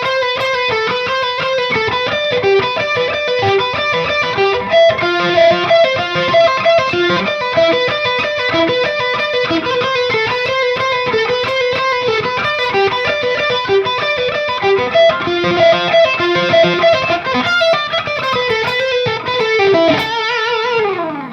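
Distorted electric guitar playing a solo, a loud, continuous stream of fast melodic runs and sustained bent notes with heavy effects, played alone without talk.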